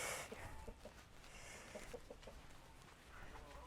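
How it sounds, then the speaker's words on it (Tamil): A chicken standing by a fence on a piece of land beside a main road gives a few soft, scattered clucks. They sound faint and somewhat distant over quiet outdoor ambience. "வள்ளடியன் கோழி நிற்கிறார்."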